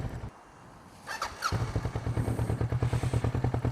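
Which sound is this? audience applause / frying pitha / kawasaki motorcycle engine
kawasaki motorcycle engine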